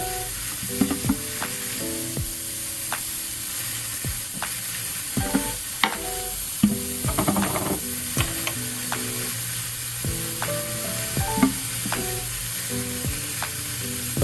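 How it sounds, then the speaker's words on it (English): Green onions and garlic sauté in coconut oil, producing a steady low sizzle throughout with scattered spoon scrapes and clicks, while soft background music plays. "saute some green onions and garlic."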